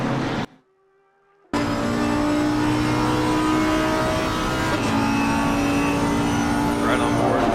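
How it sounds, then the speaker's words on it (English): A loud, sustained engine roar from an Audi R8 GT3 race car at Silverstone, heard on board and close, holding steady with shifts in pitch after a brief cut to silence near the start. "Right on board with the beautiful sounding Audi R8 GT3."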